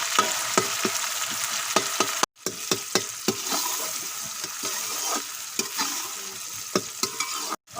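Onions fry with spices in a pan for taro curry, a steady close sizzle broken by stirring scrapes and clicks, with two short silent breaks.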